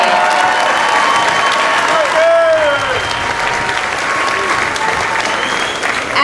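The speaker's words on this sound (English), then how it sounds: "let's give one more big round of applause to your 14" Sustained applause from a crowd fills a high school gym at a spring letter-of-intent signing ceremony, steady and loud throughout, with faint voices and a brief tonal squeal partway through.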